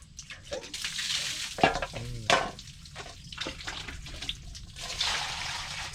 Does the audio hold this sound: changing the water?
yes